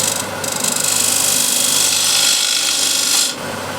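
Small spindle gouge cleaning up a spinning wooden picture-frame piece on a lathe, giving a loud, close, continuous rasping cut over the motor hum that eases off at the end.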